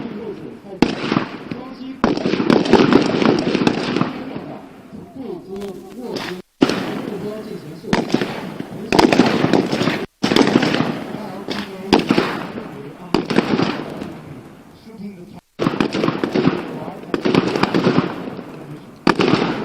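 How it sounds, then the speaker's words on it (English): Automatic rifles firing in rapid bursts during a magazine-exchange drill at a China-India joint counterterrorism exercise, loud sharp volleys broken by brief pauses, with speech mixed in underneath. "What is called magazine exchange firing?"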